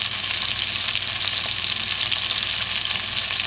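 A chuck roast searing in a hot pan for a Southern-style smothered pot roast, giving a loud, continuous, crackling sizzle of fat and juices close up, steady throughout with no voices.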